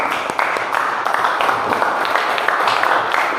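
A class of students claps in an automotive engineering classroom, a brief burst of close, dense applause with a few voices faintly underneath.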